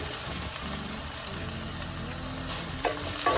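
Garlic sizzling in a camping pan while being tossed, a steady loud crackle of frying with scraping stir noises and a couple of clanks near the end.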